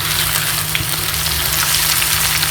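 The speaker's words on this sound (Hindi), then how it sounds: "1-आधा मिनट में लो फ्लेम में हम इन्हें पकाएंगे चिकन को" Marinated chicken for biryani frying over a low flame gives off a steady, close sizzle with a constant crackling hiss and no voices.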